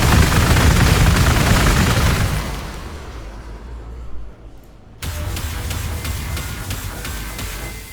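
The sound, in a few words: unit gunfire in the video game Warhammer 40,000: Gladius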